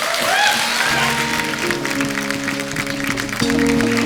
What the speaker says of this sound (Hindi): एक बार अरुणा जी के लिए और बिंदु जी के लिए जोरदार तालियां हो जाएं